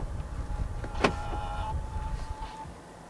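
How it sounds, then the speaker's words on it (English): A BYD Atto 3's power-folding side mirrors fold in with a quiet, steady electric motor whir lasting a couple of seconds, led by a faint click, in a calm car interior. "To fold the side mirrors in from the inside, press this button right here."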